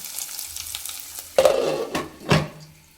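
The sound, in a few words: garlic frying under a lid until brown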